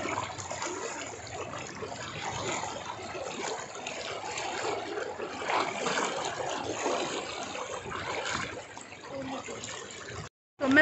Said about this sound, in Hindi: पानी का बहाव बहुत तेज़ है